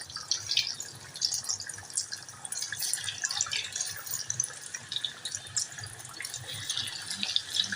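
Cheesy tandoori potato triangles frying in about half a cup of hot oil in a kadai, a faint continuous crackling sizzle with scattered pops, no talk.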